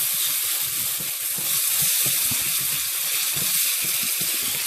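Cube steak sizzling and spitting in a hot pan right after water is added, a steady close crackle and hiss of steam running throughout with no talk.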